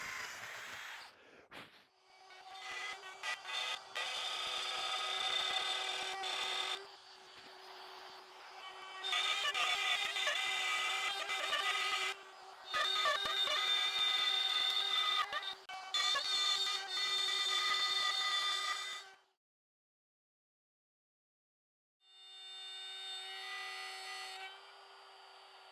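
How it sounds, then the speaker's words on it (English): A power router whines and grinds through dense hickory wood cutting grooves in several long bursts separated by short pauses, loud and close, with a brief silence near the end. "routing out a groove and enough space for all of the wires"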